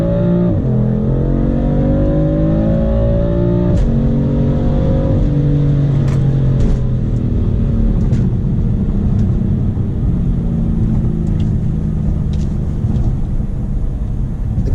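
A BMW M3 F80 sedan on Michelin Sport tires accelerates hard through repeated upshifts, its loud engine note climbing and dropping at each gear change. Its tires struggle for traction, and no one speaks.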